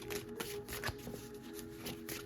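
Tarot cards being shuffled in a quiet room, a steady run of soft riffling flicks and ruffles, fairly close and continuous with no voices.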